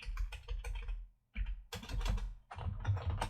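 Someone types on a computer keyboard in quick bursts of clicking keystrokes, close and clear, with one short pause midway and no voice over it.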